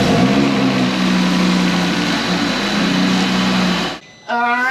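A built Audi RS3 engine runs at a loud, steady idle with a deep rumble, then cuts out abruptly for a moment before restarting.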